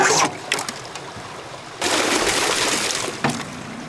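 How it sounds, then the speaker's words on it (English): Water pours and splashes loudly while a gold prospecting sluice box is rinsed out, with close bursts of gushing flow, a brief lull, then a sustained rush. "So now I'm gonna rinse out the sluice."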